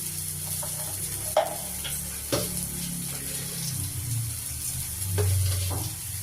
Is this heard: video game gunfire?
no